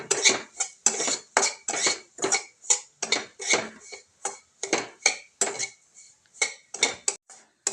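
A spoon stirs semolina roasting in ghee in a pan, producing close, rhythmic scraping and clinking strokes, about two per second, with brief pauses and no talking.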